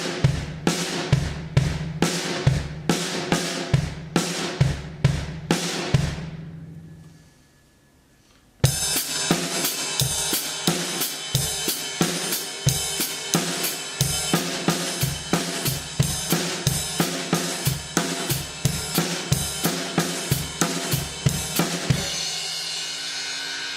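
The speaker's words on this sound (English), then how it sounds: "so now we've moved the paradiddle back one beat." A drum kit plays a paradiddle independence exercise shifted back one beat, crisp repeated hits in a steady groove, a brief quiet gap near the middle before a louder, busier pattern resumes, no talking.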